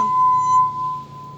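Steady singing ring of a wet fingertip circling the rim of a drinking glass partly filled with water, a pure sustained tone held close and clear, fading slightly toward the end.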